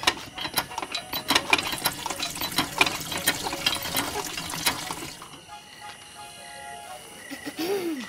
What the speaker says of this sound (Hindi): बाल्टी तो पूरी भर लेते